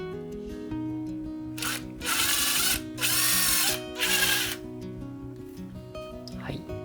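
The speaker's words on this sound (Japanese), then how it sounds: "ここの部分にこのねドリルを使って穴開けしてみようと思います。" A power drill whirs in three loud bursts of a couple of seconds each, drilling a hole through plaster in an ant farm enclosure, with background music playing underneath.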